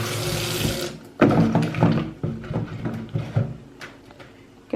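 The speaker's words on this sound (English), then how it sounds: "And I'm gonna wash it." Tap water running over a piece of ginger being washed at a kitchen sink, a loud gush at first, then splashing and intermittent bursts of flow with clunks of handling close by.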